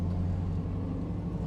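A 1990 GMC Jimmy K5 Blazer idles nearby in a gravel area, its engine and exhaust giving a steady low rumble at moderate volume.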